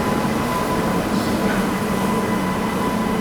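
Train carrying a G9 board, number 41229 for Vijayawada, pulling into the next platform, a loud steady rumble and rolling roar filling the station with no break.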